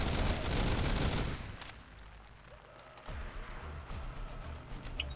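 Rapid automatic machine-gun fire in a custom zombie map (Berlin Bank) of a video game: a dense, loud burst for just over a second, then it cuts to quieter background game ambience with scattered small sounds.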